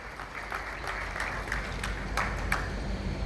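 A crowd at an assembly meeting of a community association applauds, a dense steady clapping that runs throughout at moderate loudness with a few sharper individual claps standing out.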